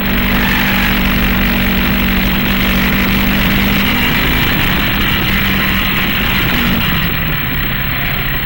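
A 1958 race car engine at full throttle on the Road America circuit gives a loud, continuous, dense roar that stays close and steady, with a slight drop in pitch near the end.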